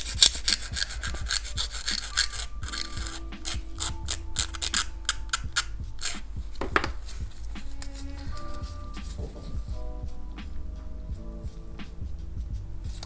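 A nail file rasps along the sides of an extra long full cover nail tip in quick, close scratching strokes, coming in bursts with short pauses, no voices.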